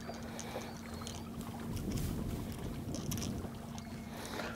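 A boat moves slowly across shallow saltwater flats under an electric trolling motor, heard as a steady low hum with a constant tone beneath broadband water and wind wash, moderately loud and close throughout with no talking.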